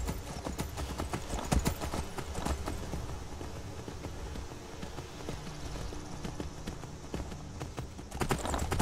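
A horse ridden along a road in Skyrim gives steady, rhythmic clip-clopping hoofbeats that continue throughout at close range over a dense background, with no voices.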